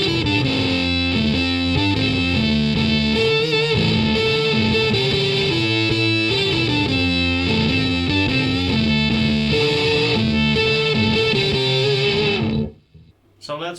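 An electric guitar riff played through an Arachnid pedal with its distortion set low, giving a thick, sustained, fuzzy tone with chugging repeated notes that stops abruptly near the end.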